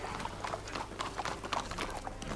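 A horse trots in The Witcher 3, with steady rhythmic clip-clop hoofbeats over a low ambient hum, moderately loud and continuous with no talk.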